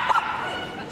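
A six-year-old Jack Russell Terrier gives a quick bark at the Crufts agility small-team final, a single sharp yip rising over a noisy, busy arena crowd.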